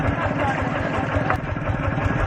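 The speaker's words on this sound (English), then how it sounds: "We're now taking little tractors." A small tractor engine idles with a steady low putter on the Thakhek Loop in Laos, close and continuous, with voices partly over it.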